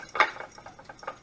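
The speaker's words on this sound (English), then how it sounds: "I'm gonna go ahead and whisk them up." Two eggs are whisked with a fork in a small dish, producing a handful of light, quick clinks and taps of metal on the dish, fairly close and faint, with short pauses between strokes.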